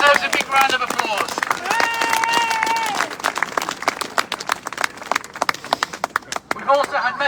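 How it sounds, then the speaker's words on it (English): Audience at a Leeds event against antisemitism clapping, a loose run of sharp claps that swells and thins while someone speaks over much of it. "That in its own right deserves a big round of applause."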